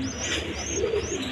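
Garra pigeons coo softly in a short burst, with a faint higher chirp drifting over a low, continuous background murmur.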